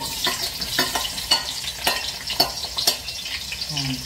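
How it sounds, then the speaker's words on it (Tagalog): Onion and garlic sautéing in oil in a pan, a continuous close sizzle broken by steady rhythmic scrapes of a spatula about every half second. "Gigisa ko muna yung sibuyas at saka yung bawang."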